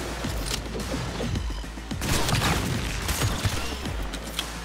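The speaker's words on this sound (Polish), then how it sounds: "Bardzo fajna to snajperka." Sniper rifle shots in Cyberpunk 2077 crack out amid a dense, busy game soundscape of gunfire and mechanical noise, with several sharp reports standing out over continuous background clatter.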